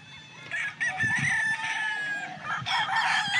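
Gamefowl rooster crowing, a few clear, close crows and clucks from the bird and others nearby across a few seconds, heard alone.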